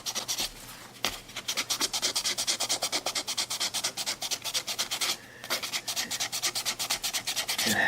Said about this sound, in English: I think 220 3M sandpaper is about as good as you can do on instruments.